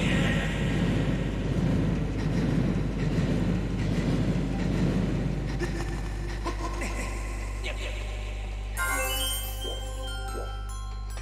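A train rolls steadily in The Legend of Zelda: Skyward Sword HD with a continuous low rumble and clatter, then bright chiming tones near the end, while people talk.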